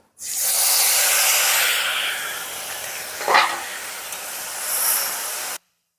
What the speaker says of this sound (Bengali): মাছের তেলের মধ্যে আমি পাঁচ ফোড়ন দিচ্ছি